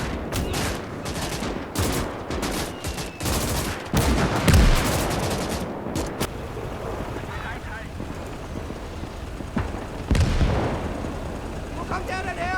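Gunfire and artillery in the WWII strategy game Gates of Hell, German campaign: dense bursts of rifle and machine-gun fire with heavy artillery booms, loud and rapid early, then sparser cracks and a distant blast with some game voice chatter.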